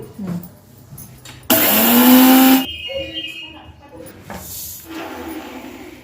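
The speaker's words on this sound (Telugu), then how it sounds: "వేయించిన ఆవాల్ని మెత్తటి పొడి చేస్తాను" A mixer grinder grinding roasted mustard seeds into fine powder starts with a loud, high whirring roar for about a second, then cuts off; quieter speech and kitchen noises before and after.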